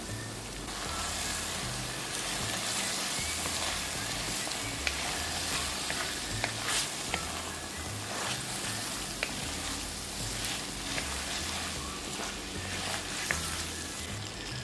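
Sliced raw banana sizzles and fries steadily in a pan of sautéed onions for a prawn and raw banana curry, a continuous close crackle with occasional stirring.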